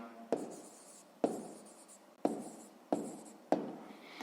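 Pen or pencil writing by hand on paper while working a math exercise, five distinct scratchy strokes spaced about a second apart, close and quiet with no talking.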